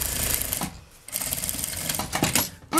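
A sewing machine stitches a beach bag in short, close, rapid bursts of needle chatter, pausing briefly and then running again with clicks and rattles.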